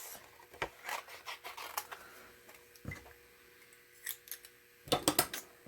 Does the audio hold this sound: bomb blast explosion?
no